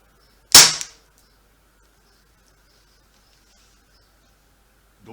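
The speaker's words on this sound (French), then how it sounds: "Allez, on va se faire un premier tir." An air gun fires a single plastic ball, giving one sharp, close pop with a brief decaying tail, followed by near silence.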